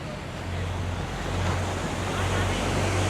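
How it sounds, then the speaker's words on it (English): Ocean surf rolls in at Da Nang beach in Vietnam, a steady, broad wash of breaking waves with wind buffeting the microphone and a low hum beneath it. "There's some good waves actually."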